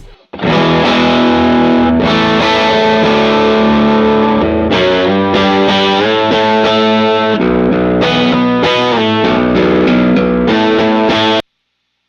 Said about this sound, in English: Gretsch baritone.